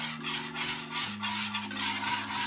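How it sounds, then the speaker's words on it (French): A pomegranate juice and egg mixture is stirred in a pan over medium heat, giving soft repeated scraping strokes over a low steady hum, close and fairly quiet. "Donc sur feu moyen, je vais venir mélanger tout ça."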